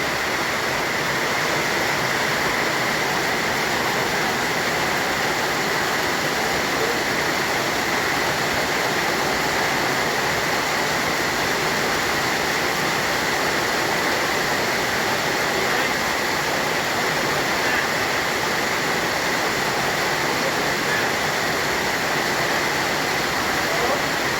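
Very heavy rain pours down at a rice-field hut, a dense, constant roar of broadband noise holding steady throughout with no letup.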